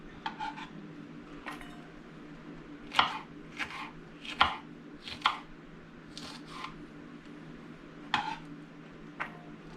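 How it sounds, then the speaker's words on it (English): Knife slicing a fresh garden banana pepper on a cutting board, a series of about a dozen crisp, irregular chops and cuts, close and clear with quiet pauses between strokes. "I have got a banana pepper fresh out of the garden. Slice it."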